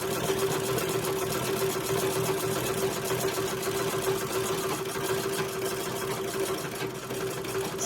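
A Singer 127 sewing machine runs steadily and loudly on its own, its continuous mechanical hum and rapid stitching rhythm holding even throughout without talk.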